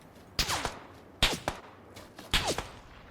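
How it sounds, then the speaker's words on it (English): Three sharp gunshot cracks, each with a brief whizzing tail, ring out about a second apart in the battle royale shooter PUBG, with quiet pauses between them. "Oh shit, someone was shooting at me."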